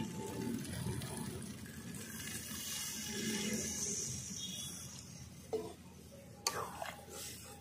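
Water poured into a pan of spiced potato curry (alur dom) after the masala has been fried in oil, a steady gushing pour that fades into faint sizzling and a few clanks near the end.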